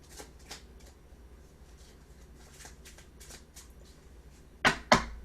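Playing cards being shuffled, with soft scattered riffles through most of the stretch and two sharp, loud snaps of cards near the end.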